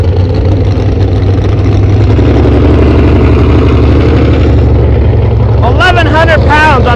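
A loud alcohol-injected 613 cubic inch Chevrolet engine in a pulling truck rumbles steadily at close range with a dense, pulsing low drone, while a voice talks over it toward the end.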